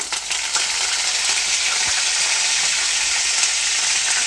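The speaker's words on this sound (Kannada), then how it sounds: "ಸಾಸಿವೆ ಮತ್ತು ಜೀರಿಗೆ ಚಟಪಟ ಅಂತ ಹೇಳಿ ಸಿಡಿದ ಮೇಲೆ ನಾನು ಅದಕ್ಕೆ ಒಂದು ಎರಡು ಎಸಲು ಕರಿಬೇವು" Mustard seeds, cumin and curry leaves sizzle steadily in hot oil, a dense, even frying hiss with faint crackles running throughout, close and fairly loud with no talking.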